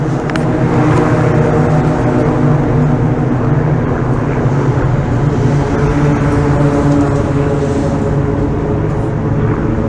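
Steady low hum of cars rolling across the Duluth Aerial Lift Bridge at midnight, a continuous droning rumble with layered tonal bands and light wind buffeting on the microphone, no talking.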